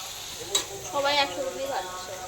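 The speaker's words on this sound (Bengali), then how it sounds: "সব কিছু একসঙ্গে মিশিয়ে নিয়ে ভেজে নিচ্ছি" Rice mixture fried all together in a pan for Bengali fried rice, with an oily sizzle under scraping stirs and a brief sharp clatter near the start, close and moderately loud.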